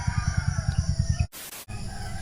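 Chickens and roosters crow and cluck nearby in a rural Philippine setting at dawn, a rapid rhythmic clucking pattern broken by a short burst of noise before the birds continue.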